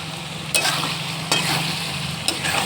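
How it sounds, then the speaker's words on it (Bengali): Chicken pieces sautéed in oil for chicken curry, with a continuous frying sizzle and a few scraping stirs of the spatula at close range, with no talking. "মাংসগুলো প্রায় কষানো হয়ে গেছে, কারণ মাংস থেকেও তেল ছেড়ে দিয়েছে।"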